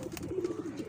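A red-footed high-flyer pigeon coos in a quick run of soft, throaty notes, close and clear over a quiet background.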